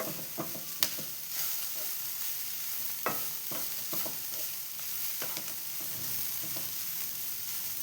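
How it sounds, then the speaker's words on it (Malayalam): Carrot sautéing in a pan for a rice-and-egg snack, with a quiet, continuous sizzle and scattered scrapes and taps from stirring, close by and free of speech. "അപ്പോൾ ഈ ക്യാരറ്റ് ഒന്ന് വഴന്നു വരും"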